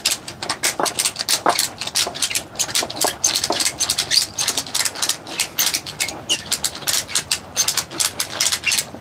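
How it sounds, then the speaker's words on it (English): Ratchet on a medieval rope bed being cranked to tighten its rope, giving a steady run of loud, close, rapid clicks with small pauses between strokes, heard alone with no talking. "Ratchet,"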